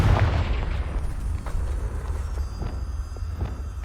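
A Confringo blasting curse explodes in Hogwarts Legacy, a loud, booming blast with a rumbling low tail and a few sharp cracks trailing after, no voices.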